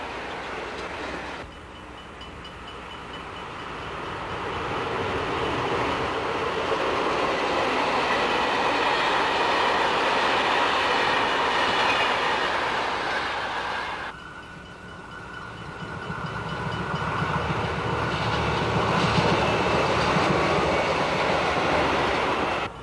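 A locomotive-hauled train in the Netherlands rumbles past close by, a long, loud roar of rolling wheels with a brief dip partway through before the noise swells again.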